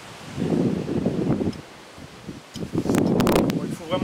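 Outdoor wind gusts buffet the microphone in rumbling, rustling bursts, easing briefly in the middle before surging again, with a person speaking at times.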